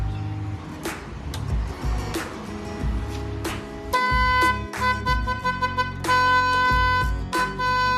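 A PIAA 500 Hz motorcycle horn gives a deeper, broader tone in a series of loud, close blasts, short and long, separated by brief pauses, after a voice speaks at the beginning.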